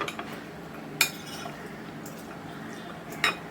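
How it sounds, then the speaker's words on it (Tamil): A spoon gently mixing chopped fruits in a bowl for mixed fruit custard, soft squelching stirs broken by two clear metallic clinks, close and quiet. "நல்லா ஒரு மிக்ஸ் மெதுவாக ஒரு மிக்ஸ் கொடுத்துக்கோங்க"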